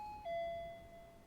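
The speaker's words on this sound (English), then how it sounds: "the doorbell makes a sound like this." A doorbell rings once with a soft two-tone pinpon chime that fades quickly, heard alone against a quiet background.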